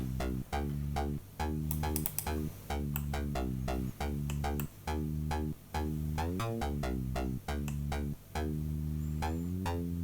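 A bright, fizzy synth bass plays a steady rhythmic pattern of repeated notes, loud and upfront with short gaps between phrases.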